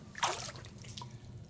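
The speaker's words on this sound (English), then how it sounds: "The water just beads right off." Water drips and splashes off an ALTAI tactical boot with Super Fabric after it is dunked in a pool, one quick close splash followed by faint trickling.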